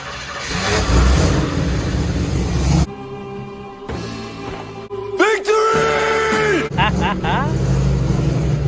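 Hopped-up engine of a 1961 Corvette idling and revving up close, its rough running rising and falling through several blips, with loud talk over parts of it.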